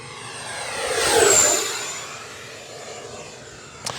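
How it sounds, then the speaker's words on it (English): A 64 mm EDF jet RC model plane, the Arrows Marlin, passes in flight with a rising, whooshing ducted-fan whine that swells to a peak around the flyby and then fades away, with a faint click near the end. "And it doesn't sound too bad for being a 64 millimeter EDF jet."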